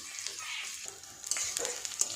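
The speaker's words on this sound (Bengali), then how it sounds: "পেঁয়াজ, আদা, রসুন বেশ ভালো করে ভাজা হয়ে গেছে।" Onion, ginger and garlic frying lightly in a pan for egg and potato curry, a steady soft sizzle with a few sharper crackles and stirring scrapes near the end, close and alone.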